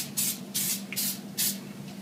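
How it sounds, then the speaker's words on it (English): Cooking oil spray spritzed over oven fries in several short hissing bursts, about four quick sprays with a low background hum between them. "give them a quick spritz with the spray."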